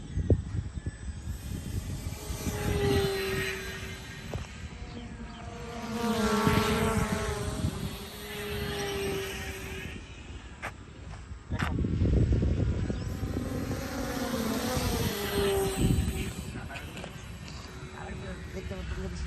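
A remote-control airplane flies overhead, its small motor giving a thin, buzzing whine that rises and falls as the plane passes near and away. People talk throughout.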